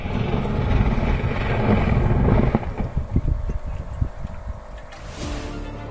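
A helicopter crashes: a loud, close roar with wind buffeting, then the sound breaks into uneven thumping before cutting off abruptly.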